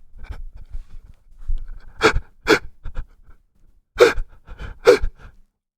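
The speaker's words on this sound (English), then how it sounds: "if I were to breathe like this" Shaky, uneven breaths like someone crying, with several sharp gasping inhales and exhales spaced unevenly over a few seconds. Close and fairly loud against quiet surroundings, with no talking.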